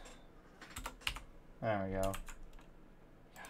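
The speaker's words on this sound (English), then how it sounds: "So this is what happens when you're bad at typing." Fast, uneven typing on a computer keyboard, close and clear, with a burst of clustered key presses and a person speaking briefly over it.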